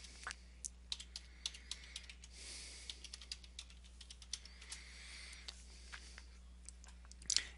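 Login details typed on a computer keyboard, a steady stream of soft, close keystroke clicks over a low constant hum, with a louder flurry of keys at the very end.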